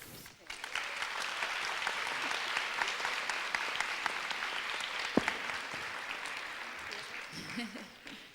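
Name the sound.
applause for Matador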